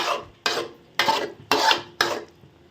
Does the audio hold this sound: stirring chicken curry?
yes